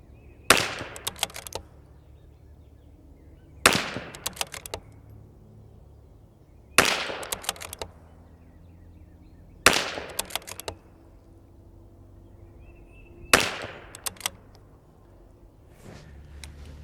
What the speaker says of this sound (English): That's probably worth shooting 5 more.